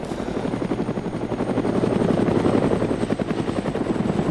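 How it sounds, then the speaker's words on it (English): Helicopters fly in the video game ARMA 2 DayZ, their rotors making a loud, steady, continuous chop that swells slightly midway and carries on without a break. "Yeah, there's two helicopters."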